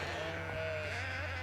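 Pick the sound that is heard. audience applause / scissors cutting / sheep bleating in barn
sheep bleating in barn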